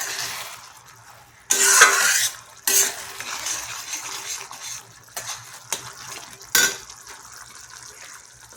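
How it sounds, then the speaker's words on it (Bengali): Cabbage koftas dropped into a simmering vegetarian curry in a pan, giving a few bursts of loud sizzling and bubbling among softer stirring and frying sounds, close up and with no talking. "তো এবার আমি কোপ্তাগুলোর মধ্যে দিয়ে দিচ্ছি।"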